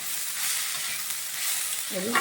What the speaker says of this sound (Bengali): ভালোভাবে একটু ভাজা ভাজা করে নিচ্ছি